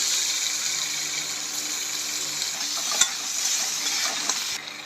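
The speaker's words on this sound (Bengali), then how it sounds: "ফোড়নের জন্য জিরে, শুকনো লঙ্কা, তেজপাতা দিয়ে দেবো। পেঁয়াজ দিয়ে দেবো।" Onion fries in hot oil with cumin, dry red chilli and bay leaf, giving a steady loud sizzle broken by a few sharp scrapes of stirring.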